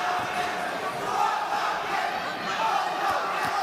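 A boxing crowd roars and cheers through the Raymond Ford vs Otabek Kholmatov fight, a steady, loud wash of many voices that swells slightly, with occasional sharper shouts and no distinct speech.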